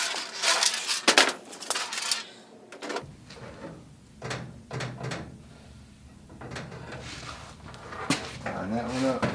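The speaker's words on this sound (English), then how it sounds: "Now let's test fit this drawer." A Husky tool chest drawer being fitted onto replacement slides, with metallic scraping, sliding and several clunks and knocks as the drawer is lined up and pushed in, heard close.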